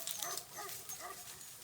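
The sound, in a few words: puppy whimpering at a pond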